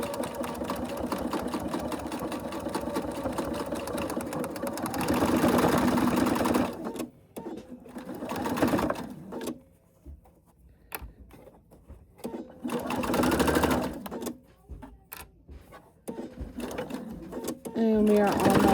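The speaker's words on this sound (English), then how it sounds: "I'm going to top stitch it" A sewing machine top stitching a small fold-and-store item runs in several loud, sustained bursts separated by short pauses, with a voice talking over parts of it.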